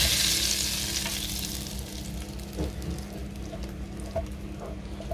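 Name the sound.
hot tempering poured onto lentils, sizzling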